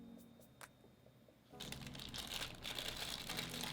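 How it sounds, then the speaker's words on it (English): Protective plastic film torn off a Godox speedlight power brick, a faint crinkle or two early, then a loud sustained crackling rip and rustle of plastic running to the end, close up. "Let's go ahead and tear this off"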